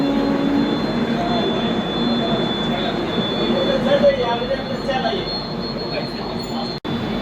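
Sealdah–New Delhi Rajdhani Express standing at platform 3 of Dhanbad Junction, heard from inside a 2nd AC coach: a loud, steady rumble and hum that fills the whole stretch, with a faint voice or two blending into the din.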